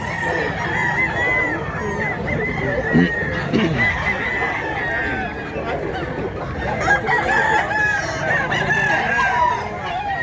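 Roosters and fowl crow and cluck at a gamecock market in Mantalungon, Cebu, amid busy crowd chatter and voices talking throughout, the crows rising repeatedly over the steady background noise.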